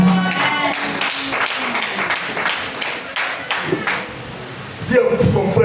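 A church congregation claps and acclaims during a French-language service, with steady rhythmic clapping under cheering and voices throughout, and a louder burst of shouting near the end.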